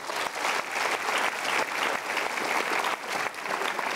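Steady applause from a seminar audience fills the whole stretch, with many hands clapping at an even density and moderate level and no voices on top.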